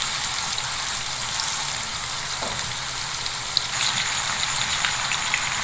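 Beef Bihari kebabs sizzle in a pan over a low flame, giving a dense, continuous crackling hiss that stays steady and close throughout.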